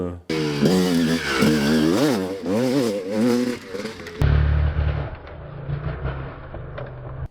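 A 1988 Honda CR250 dirt bike engine revs and whines up and down nearby, then drops to a rougher, lower idle rumble before cutting out.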